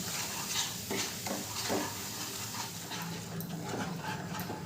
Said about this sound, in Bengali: চিনিটা এভাবে অনবরত নাড়তে নাড়তে চিনিটা একটা ক্যারামেল তৈরি হয়ে গেছে